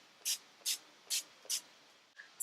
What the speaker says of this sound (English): I'm going to take the Fix It Up Matte Setting Spray. I am going to test this out on the back of my hand.